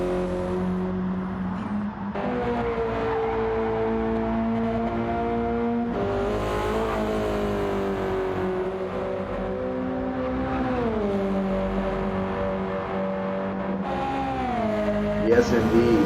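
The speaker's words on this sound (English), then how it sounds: "love the sound of these cars." Race cars lapping a seaside circuit in round 8 of a flat-out racing event, engines holding a steady high drone with gear-change pitch shifts, loud and continuous throughout.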